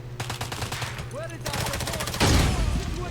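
Rapid automatic gunfire in the game James Bond 007: Blood Stone, quick bursts of shots rattling over game sounds, with a louder blast toward the end as a barrel is shot; someone talks over the firing.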